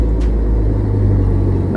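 Idling car engine, briefly given light throttle with the clutch eased out and the brake held, a steady close low rumble with no sharp rise in revs.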